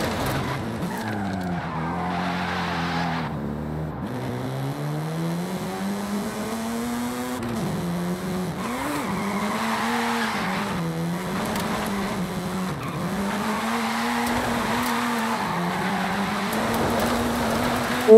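Mazda RX-7 drifting in Forza Horizon 5, with a loud continuous engine drone that rises and falls and long wavering tire squeals and skids as the car slides through turns, no voices.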